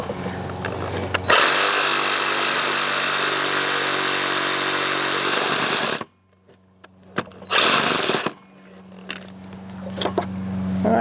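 Power saw cutting a wooden deck stair stringer: a loud whining cut for about five seconds, then abrupt quiet, followed by a short second burst and some handling clatter.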